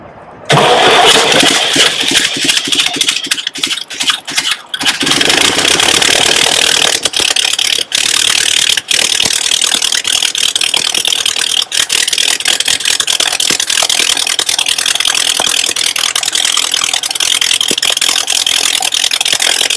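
A fragile replica of the Wright brothers' 1903 Kitty Hawk airplane engine starts up and then runs loud and steady for about twenty seconds, with a rough, rattling mechanical drone and no voices over it.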